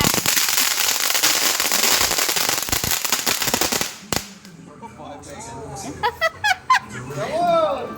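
Fireworks rockets burst with dense, loud crackling for about four seconds, then a sharp bang; afterward quieter scattered pops sound under children's chuckles and voices.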